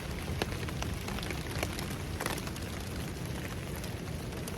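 Steady rain falling on a trail shelter along the Appalachian Trail, a dense continuous patter with scattered sharper drops, moderately faint and alone.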